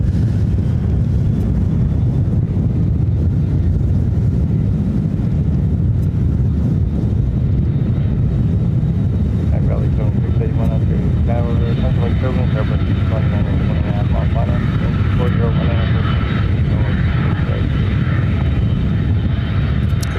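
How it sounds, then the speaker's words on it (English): American Airlines Airbus A321 arriving at Ontario, California airport from Phoenix, a steady loud jet roar with heavy wind rumble across the whole span, the engine whine building toward the end. "Next arrival is American Airline flight 1666 coming in from Phoenix, Arizona. It's an A321."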